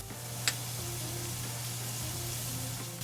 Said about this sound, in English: So we're just gonna cook off the pancetta until it's nice and crispy.